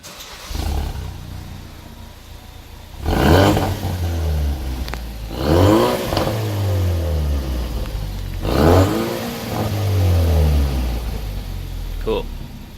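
A 2016 Ford Focus RS fitted with an AWE Track Edition exhaust revs in three loud, close bursts, each rising and falling, with lower idle between them and voices talking.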